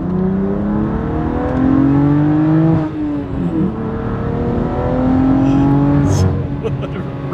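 A tuned BMW M3 F80 with a Bootmod3 stage 2 tune revs hard from inside the car, its engine pitch climbing through the gears in loud sustained pulls with a shift break between them.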